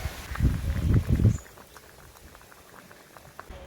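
A pot of tiny fish curry with brinjal, okra and drumsticks boils, giving a soft, continuous bubbling and popping, fuller at first and then settling into quieter simmering.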